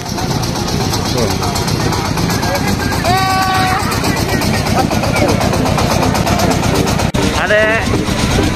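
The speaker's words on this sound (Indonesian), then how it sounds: "Oh, traktor." A tractor ride at a dairy park runs with a steady, close engine idle and rumble throughout, with voices talking over it.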